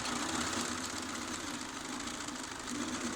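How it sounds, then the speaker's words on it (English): A Bernina B570 QE quilting sewing machine stitches fabric at a slow pace, giving a steady, continuous close-up mechanical hum and whir with a low vibrating rumble and no pauses. "If I move the fabric slowly, that little red light watches the speed that I'm moving the fabric, and the machine sews slowly."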